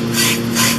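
A cast iron skillet is scrubbed in two quick strokes of rough, hissing friction, close and fairly loud, with a steady low hum underneath.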